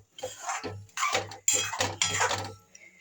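A metal spoon scraping and clinking against a pot while stirring egg, dal and coriander leaves together, several short irregular scrapes close up with no talking.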